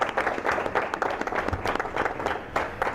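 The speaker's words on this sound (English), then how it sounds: "please join me in a rousing round of applause for her effort and" A school board meeting audience applauding steadily, many hands clapping in a dense, continuous patter at moderate volume.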